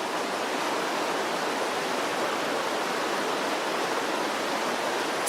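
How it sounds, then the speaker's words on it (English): Loud, continuous rushing of a river beside a campsite, a dense steady roar with no breaks and no voices. "Because of the river, I can't hear."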